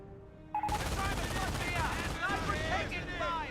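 A blind artillery barrage in Company of Heroes starts suddenly after a quiet moment, becoming a sustained, dense roar of overlapping gunfire and shell blasts.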